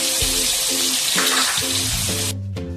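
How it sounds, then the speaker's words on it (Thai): Cabbage, tofu and shiitake mushrooms fry in hot oil with a loud, steady sizzle and crackle that drops off sharply near the end, while a musical tone runs underneath. "ครับเมื่อเราทอดกะหล่ำปีทอดเต้าหู้ ทอดเห็ดหอม"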